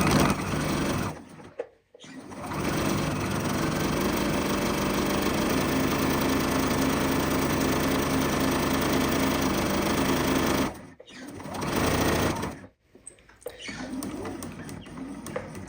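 Sewing machine running in long steady bursts while stitching a scrunchie wristlet key chain, a close continuous whir with short pauses between runs near two and eleven seconds, no talking.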